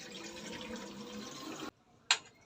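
Water pours into a wok for cooking broken rice, a steady splashing rush that runs for under two seconds, stops abruptly and is followed by a single sharp metallic clink.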